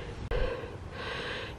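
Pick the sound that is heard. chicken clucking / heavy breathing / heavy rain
heavy breathing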